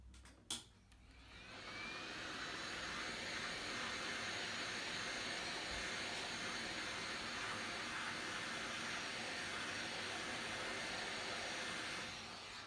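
Heat gun warming the outer back glass of a Samsung Galaxy A3 2017 phone, a steady loud airy blowing roar that runs continuously from start to finish after a brief click at the beginning.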